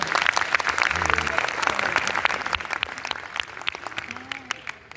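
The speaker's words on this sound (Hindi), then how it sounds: "आपकी एक बार जोरदार तालियां बजाकर" Enthusiastic audience applause at a poetry recitation, loud dense clapping that gradually thins and fades over a few seconds, with a voice briefly audible through it.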